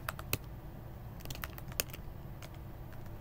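Rapid, steady keystrokes on a computer keyboard while coding a Next.js Firebase app, close and fairly quiet, with a couple of sharper key hits and no talking.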